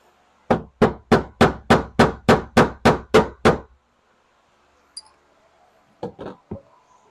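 A hammer strikes a punch against steel and aluminum rivets in a door panel of a Porsche Cayenne, VW Touareg or Audi Q7, with ten loud, evenly spaced metallic blows, followed after a pause by a few lighter taps.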